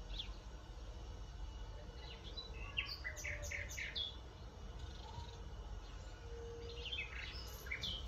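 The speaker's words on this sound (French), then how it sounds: "Essayez de vous concentrer sur le chant des oiseaux." Outdoor birdsong with many small birds chirping and tweeting in scattered bursts over steady background hiss, moderately distant, no talking.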